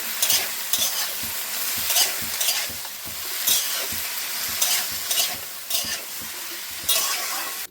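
Greens frying in a pan with salt and turmeric in a village kitchen, a steady sizzle broken by repeated scraping stir strokes in an uneven rhythm, close and clear.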